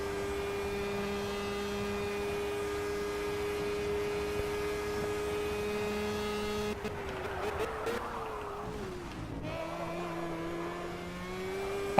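A race car engine in a racing video game at Watkins Glen's short circuit holds a steady, even drone for several seconds, then wavers and dips as the revs shift before settling back into a constant hum.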